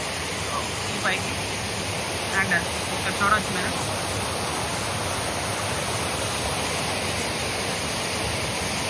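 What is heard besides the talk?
Kasipatnam waterfall rushing water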